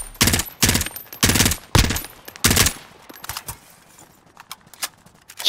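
Rapid bursts of automatic gunfire in the shooter game Call of Duty: Modern Warfare, five loud close volleys in quick succession followed by quieter scattered shots and rumble.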